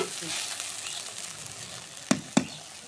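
Okra fries in a pan with a steady close sizzle and crackle, then two sharp knocks of a spatula against the pan near the end.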